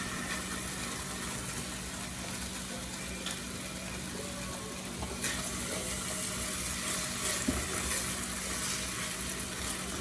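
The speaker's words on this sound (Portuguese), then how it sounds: "aqui já tem um arrozinho, ó, borbulhando aqui" Rice with a little tomato extract and garlic bubbling and simmering in a pot, a steady soft sizzle with faint pops and occasional clinks, fairly quiet and continuous.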